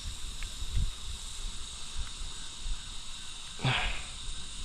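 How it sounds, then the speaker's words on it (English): Cicadas near water, where bass feed on the surface, make a faint, steady, high-pitched drone that runs throughout. A few soft low knocks sit underneath it. "you can hear all the cicadas"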